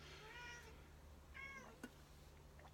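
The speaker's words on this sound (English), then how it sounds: "That's my cat, you can hear." A cat meows twice, a longer call then a shorter one, fairly close in a quiet room with a low steady hum.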